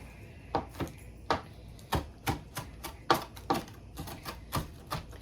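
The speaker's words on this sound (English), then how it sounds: "you're just going to want to chop your Italian parsley" Italian parsley being chopped with a knife on a cutting board, a steady run of about a dozen crisp, sharp knocks at an irregular pace, close and clear with no talking.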